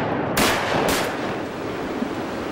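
Shotgun blasts at ducks on the water during a hunt, two loud booming shots close together over a constant wash of outdoor noise and wind.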